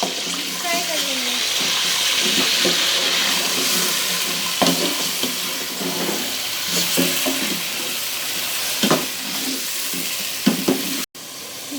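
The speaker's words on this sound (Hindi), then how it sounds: "अदरक लहसुन का पेस्ट, और इसको हम थोड़ा सा फ्राई कर लेंगे" Ginger garlic paste fries with chicken in a pan, making a loud, continuous sizzle with stirring scrapes and a few sharp clinks, ending in a brief cutoff.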